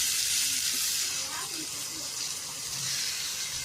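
Onions and tomato sautéing in a pan for bitter gourd thokku give a steady, close hiss of sizzling that runs evenly through the whole stretch with no pauses.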